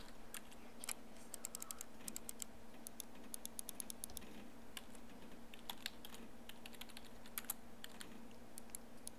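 Quiet computer keyboard typing inside the video game Everlasting Summer, irregular clusters of crisp key clicks tapping along, with no talk.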